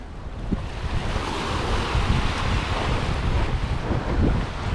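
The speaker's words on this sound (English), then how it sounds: "So the main waves are from the south." Steady ocean waves and wind rush past a sailboat running under spinnaker off southern Brazil between Rio Grande and Florianopolis, a continuous loud wash of surf and wind noise with no talking.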